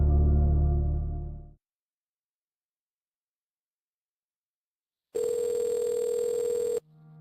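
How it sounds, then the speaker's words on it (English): Tones on a recorded jail phone call: a low tone fades out, silence follows, then a long steady electronic tone sounds and ends with a short lower beep, faint and clean. "Recordings of Nikki Stain's phone calls from jail."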